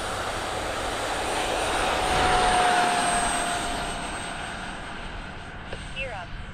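An F-14 jet in a flight simulator game gives a steady engine roar that swells in the middle and eases off, with a voice talking over it.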